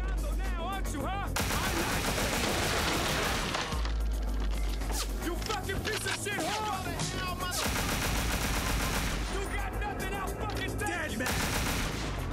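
Rapid bursts of video game gunfire from Scarface: The World Is Yours, with repeated loud volleys and crashes running throughout alongside game music and effects.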